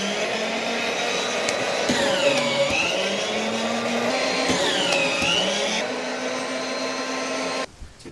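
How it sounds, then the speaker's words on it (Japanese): A Japanese woodworking machine for edge trimming (tsumatori) runs with a loud steady whine. Its pitch dips and swoops twice as the cut bites, and then the machine cuts off abruptly near the end. "こちらはつま取りをする機械です。"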